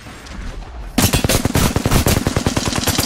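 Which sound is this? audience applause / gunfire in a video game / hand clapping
gunfire in a video game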